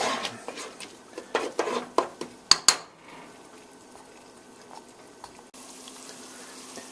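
Onions and garlic sautéing in a pan for bean soup with ham, with a few close clinks and scrapes of a utensil against the pan early on, then a soft steady sizzle continuing alone at low level.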